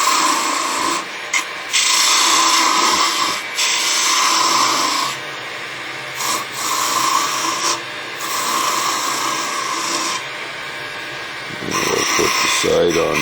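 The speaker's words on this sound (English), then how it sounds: "I like just using this skew. Come in with our skew." A skew chisel cuts wood on a spinning lathe, giving a loud, close, rasping scrape that holds steady in long passes with short breaks between cuts.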